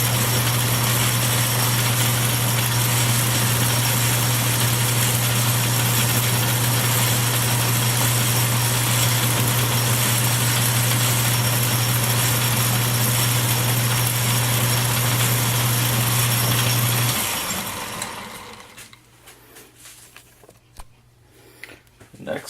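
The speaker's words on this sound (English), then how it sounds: "Set my compound at 30 degrees. I'm just going to cut a bevel on this" A metal lathe cutting a bevel with the compound set at 30 degrees gives a steady machine hum with a constant low drone for most of the clip, then cuts out abruptly, leaving quiet room noise.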